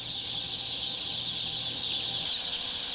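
A poultry farm shed crowded with chicks, their dense high-pitched peeping and cheeping merging into one steady, loud chorus.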